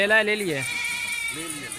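A full-grown goat bleats loudly and nearby, a wavering nasal cry followed by a second shorter bleat.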